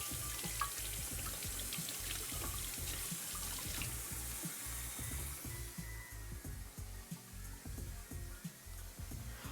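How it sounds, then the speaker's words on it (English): Kitchen sink tap runs steadily while knives are rinsed under it, a continuous close hiss of water with clatter and splashing throughout. "I'm going to quickly rinse off my knives."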